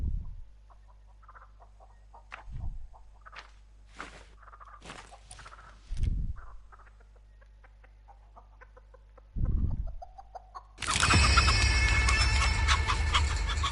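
Chickens cluck in short scattered calls inside the Texas Chain Saw Massacre video game, with soft thuds between, before a loud burst of broadband noise fills the last few seconds.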